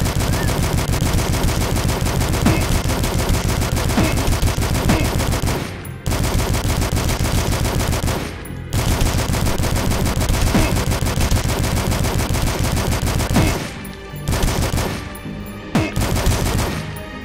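Sustained SMG fire in the retro shooter DUSK, loud and dense bursts running nearly nonstop with a few brief pauses, no voices over it.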